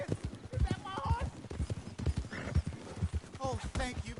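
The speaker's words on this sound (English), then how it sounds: "Is that my horse?" A horse in the video game Red Dead Redemption 2 clip-clops with rhythmic hoofbeats and gives a whinny, heard nearby under and between spoken game dialogue.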